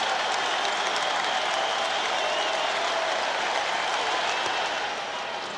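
Baseball crowd at Fenway Park during a Yankees–Red Sox game in the top of the fifth, a steady broadband roar of cheering and applause that holds loud and even throughout, easing slightly at the end.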